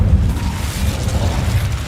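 Incendio fire spell blasting in a Hogwarts video game, a dense low rumbling boom that rolls steadily for about two seconds with no pauses.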